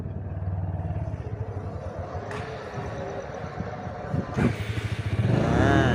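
A motorcycle engine close by: a steady rumbling idle with uneven throbbing, then louder revving near the end.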